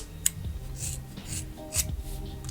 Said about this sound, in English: These are the scissors I'm using.